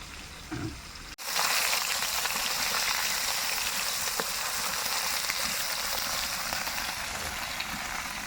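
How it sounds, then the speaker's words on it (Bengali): Fresh local fish sizzles slowly in hot oil in a pan, a loud, continuous crackling fry that starts abruptly after a short quiet moment and holds steady throughout. "টাটকা দেশি মাছের মাছ এগুলো সুন্দর আস্তে আস্তে ভেজে নেব"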